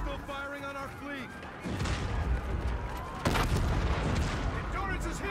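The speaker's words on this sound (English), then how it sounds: "Our guns are still firing on our fleet." Heavy ship guns in Call of Duty: Infinite Warfare pound away at a friendly fleet, dense booming blasts and rumble under loud chaotic battle noise and shouting voices.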